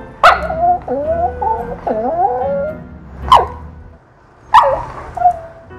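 A husky whimpers and whines in rising, wavering cries, then lets out a few sharp barks, loud and close, with short pauses between outbursts.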